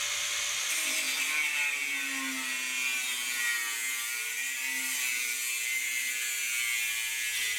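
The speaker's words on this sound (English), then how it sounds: "What we need is a man with a grinder and a will to use it." A grinder cuts into the companion box of a turbocharged four-wheel-drive Austin Mini GT-Four, a loud continuous high whine with a slowly wavering pitch held steadily close throughout.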